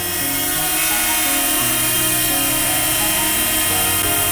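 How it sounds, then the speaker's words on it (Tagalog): A DJI drone flies nearby with a loud, steady high-pitched whine and buzz from its spinning propellers, continuous throughout with no talking. "Drone up! Up! Fly! Fly!"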